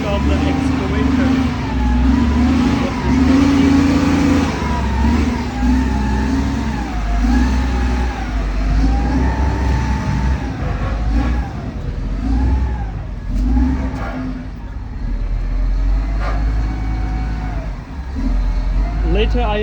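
A used SDLG (Lingong) LGB680 backhoe loader's engine runs loud and close, its revs repeatedly swelling and easing over a heavy mid-range diesel drone.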